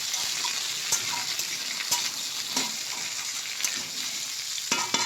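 Chandramukhi potato and ridge gourd sizzling steadily in hot oil, a continuous bright frying hiss broken by sharp scrapes and knocks of a spatula stirring the pan.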